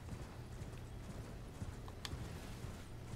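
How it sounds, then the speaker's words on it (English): Horse hooves clip-clopping steadily while riding at a calm pace in the Elden Ring video game, a continuous rhythmic trot under a low ambient background. "As I'm just calmly riding my horse to and fro."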